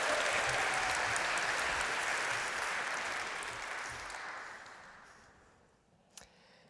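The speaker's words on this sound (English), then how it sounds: "Let's keep the applause going" An audience at a university talk applauds, a dense wash of clapping that holds steady, then slowly thins and fades to a few scattered claps near the end.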